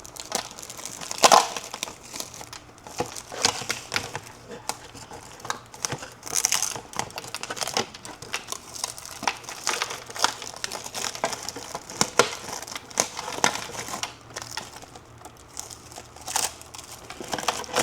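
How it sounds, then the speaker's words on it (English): Protective film being peeled off the body of a Hosim X09 RC car, a long close crinkling and crackling of plastic with irregular louder snaps throughout. "you can peel off this film, and that's going to look really good"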